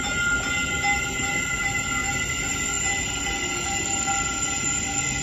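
Caltrain 612 rolling through Santa Clara station, a steady loud rumble of wheels with sustained metallic squealing tones and no voices.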